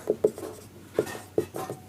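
Chalk or marker strokes writing a heading on a classroom board for a chemistry lesson, a few short taps and scratches in quick bursts, close and fairly quiet with no talking.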